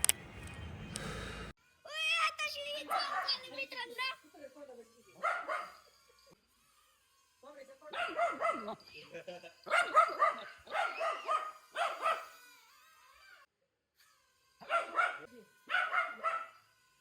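A dog barks and yelps in a string of short, clustered bursts, fairly close, with quiet pauses between the groups.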